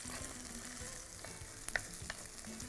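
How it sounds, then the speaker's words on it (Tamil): Chopped tomatoes sautéing with softened onions in a pan for a tomato-onion thokku, a steady close sizzle with a few sharp stirring clicks and scrapes, no talking. "இதில் நான் தக்காளி பழத்தை போட்டுறேன். போட்டு நல்லா வதக்கிறேன்."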